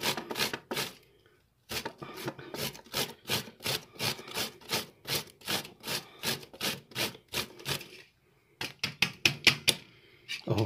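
An onion is cut into small pieces with a freshly sharpened grater tool, producing rapid rhythmic rasping strokes, about two per second, loud and close, with short pauses between runs.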